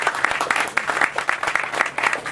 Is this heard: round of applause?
yes